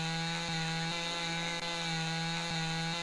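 A chainsaw runs steadily while cutting trees in the Lumberjack's Dynasty video game, a continuous close engine drone with faint periodic bumps in the tone.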